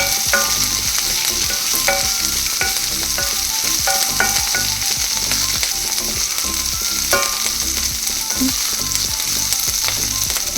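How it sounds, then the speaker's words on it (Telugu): Onion, green chili and mint fry loudly in hot oil, a steady dense sizzle broken by regular scraping strokes of a spatula stirring the pan, close and with no talking. "ఇప్పుడు కొంచెం పుదీనా అన్నీ ఒకసారి మిక్స్ చేసుకుందాం"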